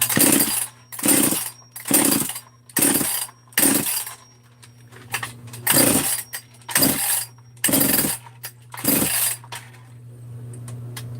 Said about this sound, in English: Let's crank the idle way up and see what happens.